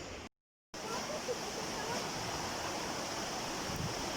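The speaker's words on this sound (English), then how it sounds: "Now this is the waterfall" A waterfall and river at Rainmaker in Parrita, Costa Rica roar in a steady, loud broadband rush, cut by a brief dropout near the start, then continuous with no talking.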